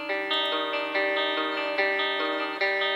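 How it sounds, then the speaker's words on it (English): A sample from a band, pitched down two semitones and time-stretched to the grid, plays as a steady, dense, processed loop of sustained tones with regular rhythmic accents, close and loud with no talking. "So I stretched it to grid and pushed it down 200 cents, 2 semitones"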